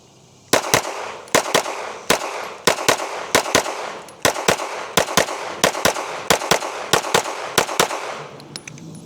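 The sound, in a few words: handgun firing a magazine with factory recoil spring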